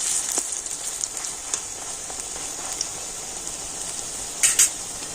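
Onion fritters shallow-frying in oil in a pan, a soft continuous sizzle and crackle with a few brief louder spatters near the end, no voices.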